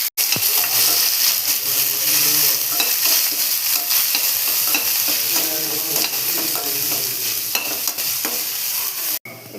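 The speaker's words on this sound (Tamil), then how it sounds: "கூடவே வெங்காயம். ஸோ நான் போட்டு வதக்கிட்டு காமிக்கிறேன்." Onion and coriander leaves sautéing in a pan, a steady close sizzle and crackle running throughout with stirring scrapes and clinks of a spoon against the pan, no voices.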